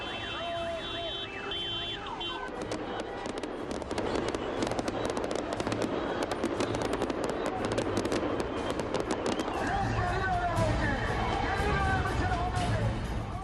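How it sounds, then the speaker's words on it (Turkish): Rapid crackling and popping of daytime fireworks going off continuously outdoors at a political rally, loud and dense, with a siren-like wail and crowd noise mixed in. "Gündüz vakti olmasına rağmen havai fişekler atıldı."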